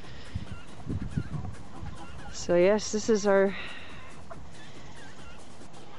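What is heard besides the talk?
hens clucking in a garden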